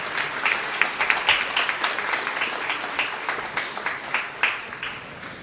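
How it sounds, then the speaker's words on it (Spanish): Congregation applauding during a Catholic Mass in Tupasy Caacupé, Paraguay: sustained, even clapping from a large crowd in a reverberant space, with scattered sharper claps standing out. "un fuerte y caluroso aplauso"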